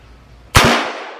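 A single sharp .22 caliber rifle shot cracks out loudly over a chronograph outdoors, followed by a short decaying echo.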